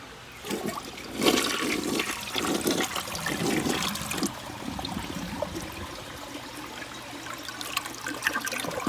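An American Standard Cadet toilet flushes nearby: a loud rush of water swirling down the bowl, then a steady trickle and refill running on alone for several seconds.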